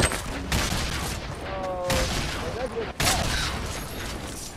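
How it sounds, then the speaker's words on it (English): Grenade launcher rounds in Fortnite set off several loud, booming blasts in quick succession over dense, noisy game action, with a player's voice briefly audible in the mix. "That guy fucking shot the grenade launchers in here."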